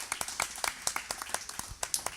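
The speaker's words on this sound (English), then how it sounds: "I think they really deserve a nice round of applause" A small audience at a TV show taping applauds a sponsor, with scattered, uneven hand claps that are fairly close and moderately loud and carry through the whole stretch without talk.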